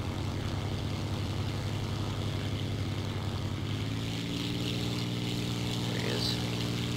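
Propeller-driven dive bomber engine in the video game War Thunder, a steady droning roar holding throughout, with a deepening harmonic hum partway through and brief faint voices over it.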